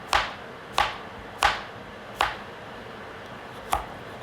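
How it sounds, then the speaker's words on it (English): Shrimp stir-fry ingredients are chopped on a board, five separate sharp knife thuds at uneven intervals, close and fairly quiet, with no talk. "Officially done with our chopping."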